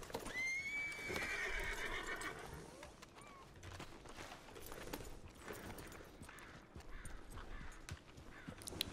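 A horse in the video game Red Dead Redemption 2 whinnies loudly with a long rising and falling neigh, followed by scattered snorts and hoof clatter over a steady ambient background.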